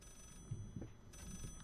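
A telephone bell in the horror game Layers of Fear, ringing faintly in a couple of short, dragging bursts that sound slowed down, under a low, murky background.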